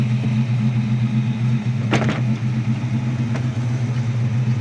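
A 1939 Chevy street rod's engine idles with a steady low dual-exhaust rumble, a brief sharper burst breaking through partway, continuous throughout.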